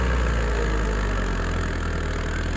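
A tractor engine idles on a farm field during a cultivator demonstration, a steady low throbbing drone that continues evenly and close by for the whole stretch.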